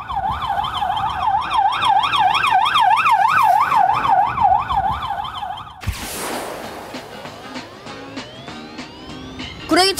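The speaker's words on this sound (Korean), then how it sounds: "이번엔 소방차가 이동할 때 사이렌 소리." A fire truck siren wails in fast regular up-and-down sweeps as the truck moves, loud and near, then shifts abruptly to a rising whoop with passing traffic noise behind it.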